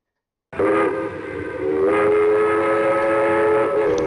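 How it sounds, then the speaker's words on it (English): A 10-wheeler steam train from the game Railroad Tycoon Deluxe starts up with a steady mechanical rumble and a sustained, loud whistle-like tone that holds throughout, swelling briefly near the middle and continuing alone without talk. "I'm going to build a new train."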